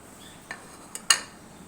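Half an onion being mixed into mashed eggplant for baingan bharta, heard as a few soft scrapes and clinks of a utensil against a bowl, the last tap slightly sharper, in a quiet room.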